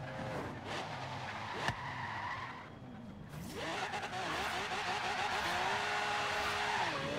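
A car in the video game Forza Horizon 3 revving and skidding, with engine tones rising and falling and tire squeal building toward the end, loud and continuous; a voice speaks briefly in the background.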